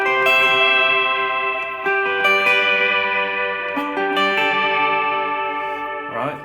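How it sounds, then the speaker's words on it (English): Sustained electric guitar chords ring out and bloom through amp reverb, trailing a washy reverb tail that lingers as new strums layer over the decay. "Throw some reverb into there"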